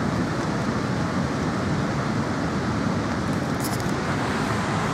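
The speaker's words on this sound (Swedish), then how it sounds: "Jag gillar ljudet av Vattenfall." Steady, unbroken rush of a waterfall in Norway, a constant broadband roar that holds level throughout with no voices.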